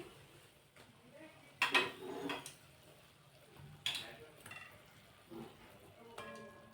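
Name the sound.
jalebi being stirred in sugar syrup in a pan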